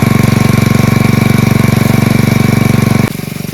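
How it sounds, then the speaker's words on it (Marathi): An engine-driven water pump drains a pond outdoors. It gives a loud, close, steady rhythmic chugging that drops suddenly to a quieter, lighter beat near the end. "चला, मशीन मस्तपैकी चालू झाले"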